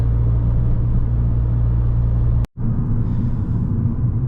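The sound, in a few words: Abarth 595 car engine warming up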